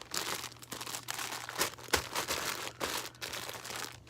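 A bag holding fabric scraps, trims, laces and buttons crinkles and rustles up close as it is handled, in a steady stream of soft crackles with no talking.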